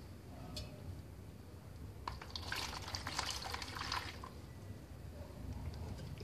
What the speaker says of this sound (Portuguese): Vou diluir ela em água para poder transformar em lixívia.